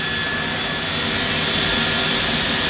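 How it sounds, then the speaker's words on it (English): CNC drill spindle boring holes in a wood panel, a loud, continuous high-speed whine with a broad hissing roar that holds steady without pause. "here it's the drill spindle only"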